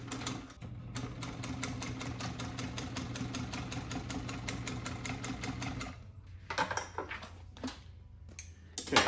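A sewing machine runs a single top stitch in rapid, even mechanical clatter for about six seconds, then stops, followed by scattered handling clicks and knocks close by.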